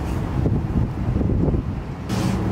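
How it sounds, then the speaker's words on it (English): Strong wind buffets the microphone outdoors while potting plants, a continuous loud rumbling roar with gusty swells and a brief lull partway through. "Quite windy."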